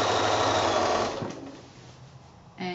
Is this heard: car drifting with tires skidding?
no